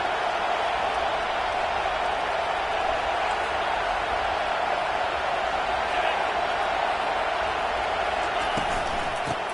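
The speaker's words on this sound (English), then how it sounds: "they try to quiet this raucous, crazy crowd" A raucous, dense stadium crowd roars steadily throughout a late-game moment of College Football 25, a constant loud wash of cheering with no letup.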